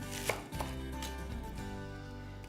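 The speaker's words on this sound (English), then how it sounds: "Then just cut it into thick quarters," A kitchen knife cuts a fennel bulb into thick quarters on a board, giving a couple of soft, close chopping thuds early on, then quieter cutting. A faint tonal background runs throughout, and there is no talk.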